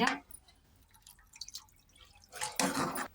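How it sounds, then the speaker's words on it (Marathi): Water is poured into peas cooking in a pan, heard as brief close splashing and dripping bursts at the start and end with a quieter stretch between. "अजून थोडं पाणी टाकते मी"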